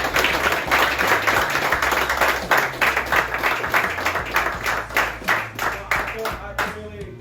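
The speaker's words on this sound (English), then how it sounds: "Round of applause for Coach Radford." An audience at a Hermitage football talk claps in a steady, moderately loud round of applause for a coach, lasting several seconds before fading.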